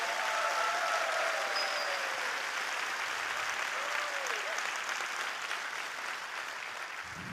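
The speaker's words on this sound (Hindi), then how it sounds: "यार जोरदार तालियां अपने लीडर के लिए बजा सकते हैं आप।" Faint, distant audience applause at a business gathering for its leaders, a steady soft patter of clapping that holds evenly throughout without voices over it.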